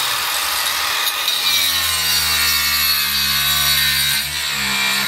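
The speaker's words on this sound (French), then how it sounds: "On est en train de découper le truc en plastique là pour la fiche qu'on va mettre sur la porte." A plastic piece for a door plate being cut with a saw, producing a continuous close, loud rasping drone with steady tonal buzz throughout and no talk.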